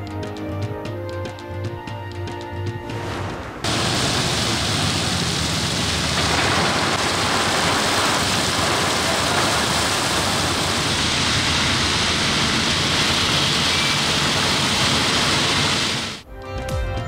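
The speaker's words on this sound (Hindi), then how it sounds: "कराची में सरमा की पहली बारिश हो गई।" Winter rain falls in Karachi as a dense, even hiss, steady and loud for over twelve seconds after a burst of music cuts out.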